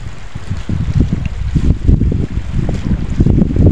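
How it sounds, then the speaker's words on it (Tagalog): Strong wind buffets the microphone at an outdoor campsite with a continuous low roar and rumbling gusts. "sobrang hangin talaga"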